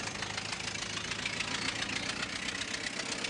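A vehicle engine in the British wartime sitcom Dad's Army runs with a steady, rough, knocking drone, heard alone and fairly faint.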